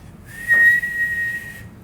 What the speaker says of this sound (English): Suddenly, a shrill whistle was heard.